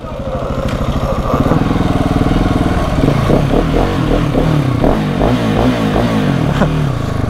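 A KTM 690 SMC R supermoto single-cylinder engine runs loud and close, a steady idle giving way to a series of quick throttle blips with clattering mechanical noise, and faint voices in the background.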